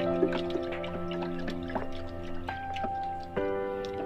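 Liquid fertilizer and pesticide mixed in water for long bean plants is stirred, making close wet drips, sloshes and small clinks against the container over a few seconds, with no talking.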